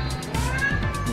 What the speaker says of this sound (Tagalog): Naku, nandyan ng pusa.